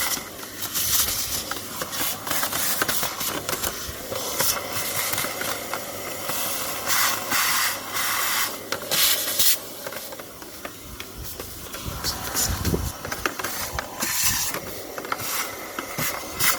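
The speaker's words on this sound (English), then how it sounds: "we're just gonna clean the casing here with the vacuum cleaner" A vacuum cleaner sucks dust from the air filter casing of a BMW 320 diesel E90-series car, a steady close hiss with rasping, scraping fluctuations as the nozzle moves around the plastic housing.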